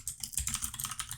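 Code is typed on a computer keyboard in a quick, close burst of rapid clicking keystrokes with no speech.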